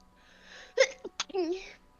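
A single sharp human sneeze with a quick inhale before it, close and clear, preceded by faint murmuring voices in a quiet room.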